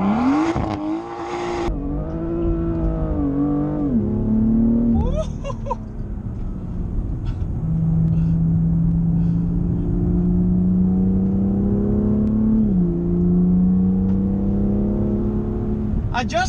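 A BMW M2 in Sport Plus mode with traction control off accelerates hard, its engine note climbing through several rising sweeps with brief dips at gear changes, loud and close from inside the car.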